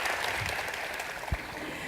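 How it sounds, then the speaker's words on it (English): Audience applauding a panel on stage at a World Economic Forum discussion on geopolitics in Asia, a dense, steady patter of clapping lasting throughout, fairly far and diffuse in a large hall. "Could we just start by giving a big round of applause for our esteemed"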